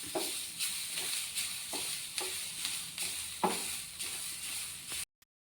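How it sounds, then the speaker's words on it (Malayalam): Grated coconut roasts in a pan, stirred in regular scraping strokes roughly every half second over a soft continuous sizzle, ending abruptly. "വറുത്തെടുക്കാം"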